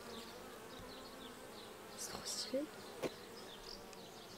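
Honeybees buzz softly throughout a hive inspection, a faint steady drone with a few louder passes near the microphone and a brief word spoken.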